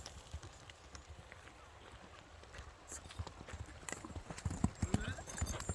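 Hooves of a horse clip-clop on hard ground, an irregular run of sharp close knocks that grows busier toward the end, with people talking nearby.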